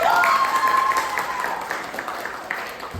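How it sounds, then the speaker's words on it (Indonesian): Group 4 receives applause from a classroom audience at a teacher performance test session, a steady wash of clapping that starts loud and fades slightly over the few seconds, with some voices mixed in. "Silakan kelompok 4 beri tepuk tangan dulu."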